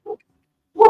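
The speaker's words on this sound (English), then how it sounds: "I think the dogs walk back in, don't they?" Dogs indoors give two short yips or barks, a faint brief one first, then a louder, longer bark after a gap of silence.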